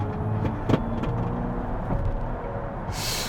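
Synthetic electronic engine sound of a Kia EV6 GT set to Cyber mode, a low steady drone heard from inside the cabin under road rumble while driving on a public road, with a brief hiss near the end.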